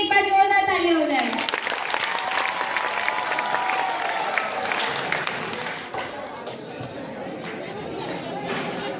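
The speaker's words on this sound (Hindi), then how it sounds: "विनर सीट के लिए एक बार जोरदार ताली हो जाए।" Applause from the audience for the winners at a school debate competition and Ganesh festival event, with dense clapping and crowd chatter sustained for about nine seconds and easing slightly toward the end.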